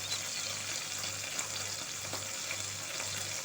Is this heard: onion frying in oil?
yes